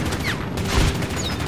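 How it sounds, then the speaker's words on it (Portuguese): Rapid bursts of distant gunfire in the video game Medal of Honor: Vanguard crackle, a dense rattle of shots layered over background noise. "é uns tiros de longe,"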